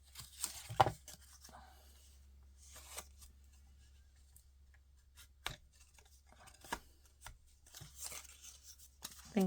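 Paper being cut for a handmade springtime paper craft card, with a few scattered snips and soft rustles, close and fairly quiet, separated by pauses.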